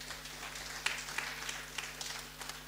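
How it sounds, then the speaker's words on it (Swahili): Applause from a church congregation at a live Kikuyu service, steady and fairly faint, with a few sharper claps rising above the wash of hands over about three seconds. "Tuwapigie makofi tena."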